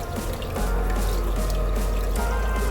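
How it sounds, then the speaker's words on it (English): Water pours steadily from a tap while tilapia fish is rinsed in the kitchen, a loud continuous splashing stream close to the microphone. "Now rinse it off with water completely."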